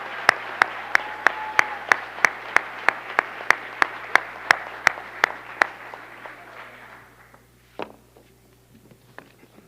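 Sparse, evenly spaced claps ring out at a school board meeting honoring 40 years of service, a steady rhythmic applause that thins and stops near the end.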